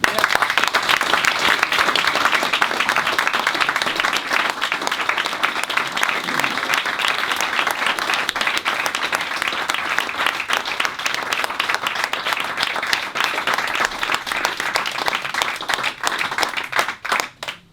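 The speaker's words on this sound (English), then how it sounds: "I can say that's the longest clap a speaker has ever had" Sustained enthusiastic audience applause following a speech by a health board CEO at a club gathering, dense steady clapping from a large crowd filling the whole stretch without pause, fading only at the very end.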